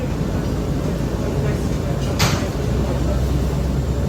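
An R179 subway car on a Manhattan-bound F local train out of Coney Island runs with a steady, loud interior rumble and roar, and a brief bright hiss cuts through the middle.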